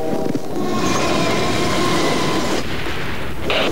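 A train in a 2003 Polish TV advert, heard as a loud continuous rumble of rolling wheels and carriages with rattling and a faint high squeal, filling the whole clip without speech.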